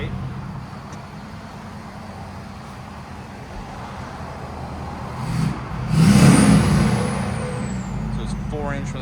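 A 2020 Ford F-250 with a 6.7L diesel, DPF delete and 4-inch straight-pipe exhaust idles with a steady low rumble before a loud rev swells around the midpoint, heard from inside the cab, followed by a rising whine.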